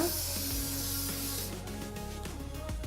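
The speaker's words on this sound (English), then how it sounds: "He loves to spray it on the hair first and then lock it in with the hairspray." A steady spray hiss of shine spray onto hair runs for about a second and a half over a low hum, then stops, leaving faint rustling.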